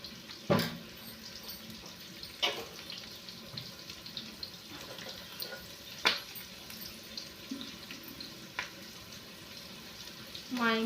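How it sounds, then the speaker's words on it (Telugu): Carrot pieces frying in a pan give a faint, steady sizzle under occasional clatter of utensils, with a voice talking at moments. "అలాగే క్యారెట్ ముక్కలు అవి ఫ్రై అయిపోయినాయి"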